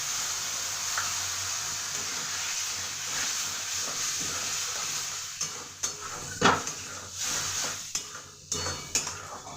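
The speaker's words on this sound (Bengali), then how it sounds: "আমি ভালো করে মশলাটাকে এবার কষে নেব।" Spice paste for a Bengali malai curry being stir-fried in a pan, a steady low sizzle and hiss with scraping spatula and utensil knocks growing busier toward the end, close and alone.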